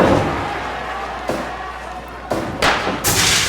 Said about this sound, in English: the pop of him hitting the, the old barbed wire ropes, but there's no explosion there